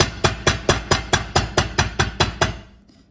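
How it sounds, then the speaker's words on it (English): A rubber mallet taps a wire tree of life pendant on a hard surface, about eleven evenly spaced sharp knocks in steady rhythm, close and clear, then fading to quiet. "This one, use just a rubber mallet."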